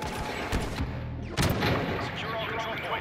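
Gunfire in a Star Wars Battlefront game: dense, rapid blaster and gun shots ring out close and loud, with a heavy booming burst near the middle and continuous combat noise throughout, while a voice talks faintly underneath.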